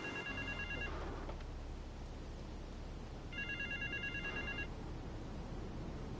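An in-game telephone rings in Grand Theft Auto III, giving two electronic trilling bursts about two seconds apart over a quiet, low background rumble.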